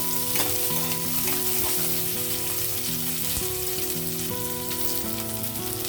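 Onion frying in a hot pan for vegetable biryani: a loud, dense, continuous sizzle and crackle that holds steady throughout, close up.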